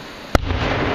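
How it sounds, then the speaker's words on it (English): A single sharp 4th of July firework burst in Stroudsburg, Pennsylvania, a loud crack over a constant rushing crowd and ambient background. "Fireworks, baby."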